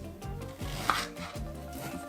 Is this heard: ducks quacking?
no